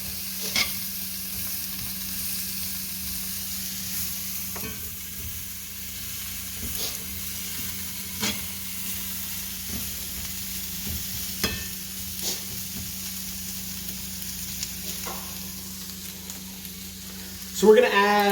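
Onions cook down in a pan for a Spanish chorizo and shrimp dish, giving a long, even sizzle with occasional utensil clicks and stirs. A louder clatter comes at the very end.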